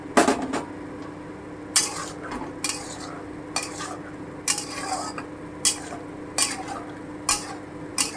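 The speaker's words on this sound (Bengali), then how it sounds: "এবার আমি পনিরটা দিয়ে দেবো" Paneer pieces go into a pan of shahi paneer curry and are stirred, a series of close, sharp spoon-and-pan clanks and scrapes in repeated bursts over a faint bubbling simmer.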